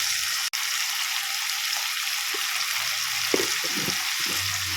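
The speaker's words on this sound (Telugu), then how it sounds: "బాగా మగ్గాలి ఆయిల్లో మనకు కాకరకాయ." Bitter gourd and onions fry in oil in a pan, giving a continuous bright sizzle, with a few scraping stirs and knocks heard close toward the end.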